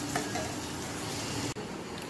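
Rice and dal frying in a pan with spice paste, giving a steady, fairly loud sizzle that fills the whole moment, broken only by a brief dip near the end.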